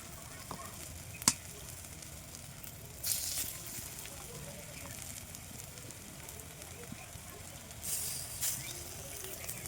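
Bora fritters being laid one by one into hot oil in a wok, with a steady low frying sizzle throughout and a couple of brief louder hissing bursts as pieces go in.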